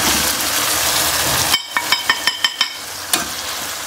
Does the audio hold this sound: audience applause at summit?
no